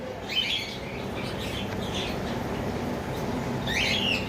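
A pair of red-eyed female albino lovebirds chirp in short bright bursts near the start and end, over a steady bed of broadband background noise.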